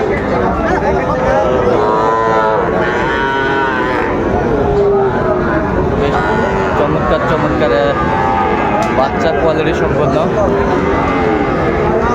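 Cattle, including Sahiwal bull calves, moo again and again at a busy livestock market. Loud, drawn-out lowing from several animals overlaps steady crowd chatter and nearby talk the whole time.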